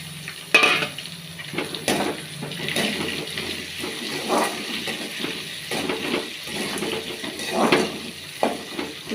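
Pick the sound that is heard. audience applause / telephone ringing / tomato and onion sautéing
tomato and onion sautéing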